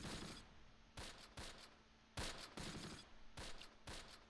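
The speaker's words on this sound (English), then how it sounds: "we're actually shooting at that Panzer IV" Gunfire aimed at a Panzer IV tank in the Close Combat game. Several distant, sharp cracks come one after another, some in quick pairs, at low volume with no talk.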